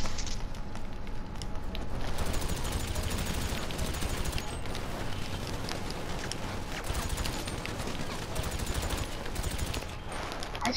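Continuous, dense minigun fire in GTA 5 rattles on loudly for the whole stretch, with overlapping shots and impacts in a busy gunfight.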